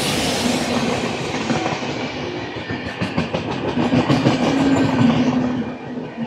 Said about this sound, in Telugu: సిఎస్ఎంటీ నుంచి అమృత్సర్ వరకు వెళ్ళి ఎక్స్ప్రెస్.